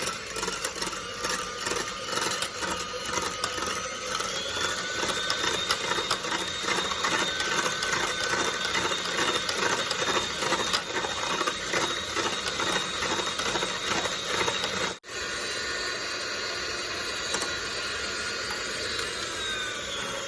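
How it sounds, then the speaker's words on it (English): An electric mixer whisks egg whites toward stiff peaks, a continuous mechanical whirring drone that runs steadily, then shifts and drops slightly in level partway through, with no voices. "I'm going to go ahead and whisk these up until I achieve stiff peaks"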